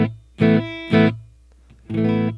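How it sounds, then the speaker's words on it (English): A clean electric guitar tone with no reverb rings out in three separate strummed chords, each cutting off dry and close. "So here's just my total clean tone."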